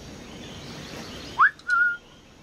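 A character in Assassin's Creed IV: Black Flag whistles to lure a guard, two short clear whistle notes, a quick rising chirp then a held tone, over quiet ambient background.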